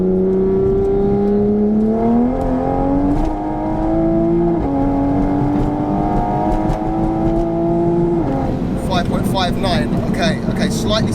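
A 760bhp Mk5 Toyota Supra pulls hard down a runway, its engine note climbing steadily through the gears with brief dips at each shift, loud and close throughout, ending in a rougher, crackling burst.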